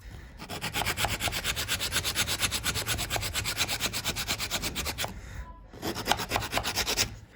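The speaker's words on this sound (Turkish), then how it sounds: "İçeriden de biraz şöyle yamuk yerleri varsa onları da almak istiyorum zımparayla." Sandpaper rubs over wood in quick, rhythmic back-and-forth strokes, a steady rasping that pauses briefly before resuming.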